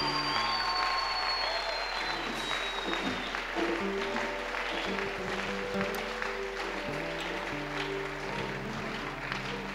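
A church congregation applauds and cheers steadily throughout, dense sustained clapping with crowd noise under a background music tone.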